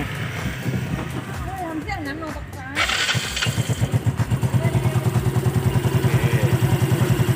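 Some clattering and low murmuring, then a Yamaha Mio Fino scooter engine, just reassembled after a belt change, fires up and settles into a steady, pulsing idle close by.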